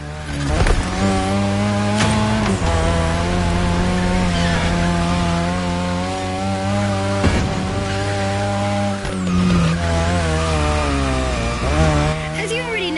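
Car drifting on the drift track in The Crew Motorfest, a steady loud engine drone with shifting pitch and gear changes, sustained throughout with bursts of tire noise.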